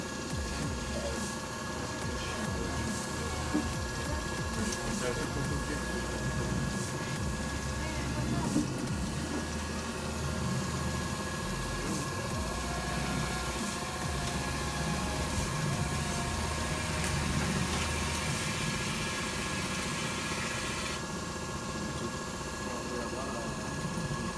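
An XTR AR3 engine runs steadily at 900 rpm and 98 degrees during an oil-bath break-in, giving a continuous, even mechanical hum and drone with faint whirring that holds constant throughout.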